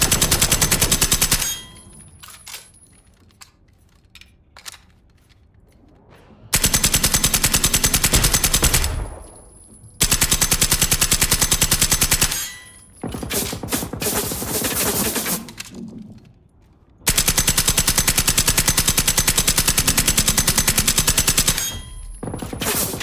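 Sustained machine gun bursts in the shooter game Generation Zero, loud rapid-fire volleys lasting several seconds each, separated by brief quieter gaps with scattered single shots.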